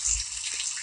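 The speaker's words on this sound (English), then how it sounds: "So I'm in the shower right now." Shower water runs in the Roblox Bloxburg video game, a steady hissing spray with no talk over it.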